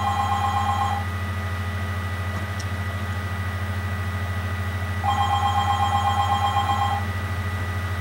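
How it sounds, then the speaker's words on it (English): An indoor telephone bell rings in two distinct trilling bursts separated by several seconds of pause, clearly audible over a constant low electrical hum. "Sorry about that, the phone's ringing."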